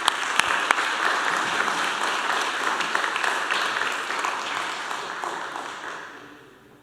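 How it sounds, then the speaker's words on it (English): A school board meeting audience applauds students with sustained, dense clapping that stays loud and steady before tapering off toward the end. "Please join me in giving all these students a round of applause."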